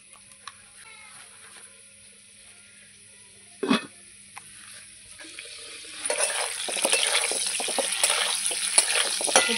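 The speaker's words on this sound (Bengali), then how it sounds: "এদিকে আমার আলুটা ভাজা হয়ে গেছে" Potatoes fry in oil in a pan, first a quiet sizzle with one sharp clatter, then a louder, busier crackling sizzle with stirring scrapes over the last few seconds.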